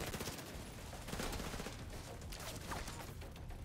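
A deployed turret in The Division 2 fires in dense rapid bursts at an enemy, a continuous crackle of automatic shots in a busy firefight with no voices over it.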